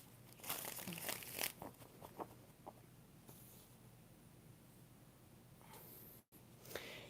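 Tarot cards being shuffled by hand, a quick cluster of papery crinkling riffles early on, then softer scattered card flicks over a faint, quiet background.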